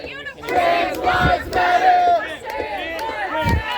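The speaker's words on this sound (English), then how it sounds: "From this angle, it's much easier to hear the protesters than Riley" Protesters chant and shout in rhythmic bursts outside a Riley Gaines speaking event at Penn State, a loud, close crowd of raised voices rising and falling in waves over several seconds.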